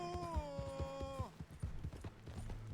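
Horse hooves clip-clop in a steady rhythm while riding in the video game Red Dead Redemption 2, fairly close, with a sustained tonal sound over the first half that then drops away.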